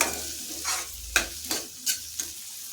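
Chopped carrots and tender beans fry in a pan for ragi soup, a steady close sizzle broken by four or five scraping strokes of a spoon stirring the vegetables, no talk.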